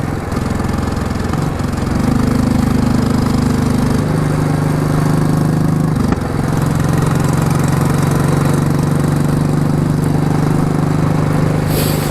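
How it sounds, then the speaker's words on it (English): A Royal Enfield Classic 350 motorcycle running on a mountain pass, its engine thumping steadily with a metallic buzzy rattle from a loose exhaust clamp, close and continuous with small shifts in engine pitch. "like I say, the exhaust, it's just that clamp."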